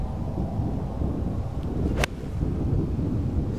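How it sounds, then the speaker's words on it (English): Strong wind on an outdoor golf course buffets the microphone with a constant low roar and rumble. A single sharp click sounds midway. "Oh my God, that wind."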